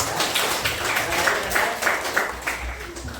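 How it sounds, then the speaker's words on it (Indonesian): A classroom of students claps for a classmate in a Quran memorization lesson, fairly loud scattered applause with a loose rhythmic pulse running steadily for a few seconds. "tepuk tangan dulu buat Maryam?"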